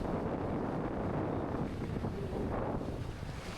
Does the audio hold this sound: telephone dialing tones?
no